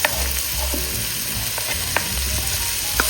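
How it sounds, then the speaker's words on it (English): Steady, loud sizzling of chopped shallots, ginger and garlic frying in a hot slow cooker pot, with occasional clicks and scrapes of stirring. "You can hear that sizzle as soon as I put those chopped veggies in there."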